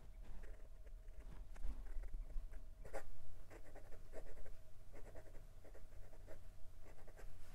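Steel nib of a Wing Sung 629 fountain pen scratches across paper in quiet, close, continuous strokes with a rhythmic pattern of short scrapes.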